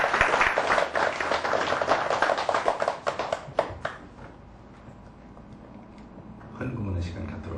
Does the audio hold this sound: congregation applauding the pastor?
yes